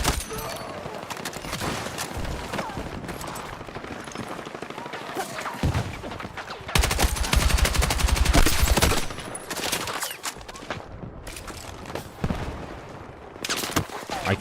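A smart-bursting gun in Battlefield 6 firing in rapid repeated bursts, with dense gunfire and explosions surging loudest midway, heard alongside other battle noise and occasional voice talk.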